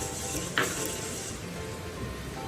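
Rice being stirred with salt and olive oil for a tomato rice gimbap filling gives a soft, steady scraping rustle with one sharper knock early on. It stays fairly quiet and close, and no one speaks.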